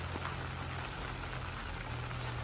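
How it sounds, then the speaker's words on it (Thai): Steady hiss of rain falling, continuous and even throughout with a low hum underneath, no voices. "ตอนนี้บรรยากาศฝนตกนะครับ"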